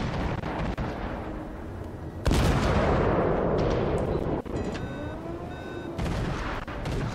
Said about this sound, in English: See, the guns on this ship are actually very accurate